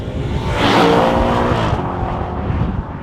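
An Audi B8 RS4 with its V8 revs hard while driven, a loud rising howl that swells and then eases off with a brief tire squeal, heard up close without talk.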